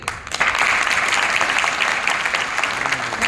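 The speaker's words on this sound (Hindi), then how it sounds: "एक बार जोरदार तालियां जितेंद्र सर के लिए" Seminar audience at a resort event gives a loud round of applause, dense and sustained clapping from a crowd throughout.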